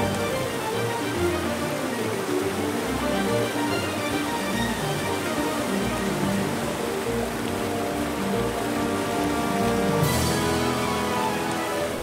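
A Plitvice Lakes waterfall in Croatia, its white foam spilling over a rock wall and throwing up mist, gives a steady, dense rushing roar that holds unbroken from start to finish, with no voices.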